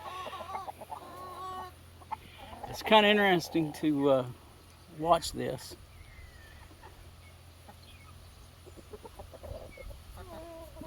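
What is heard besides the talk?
chickens, hen chasing a rooster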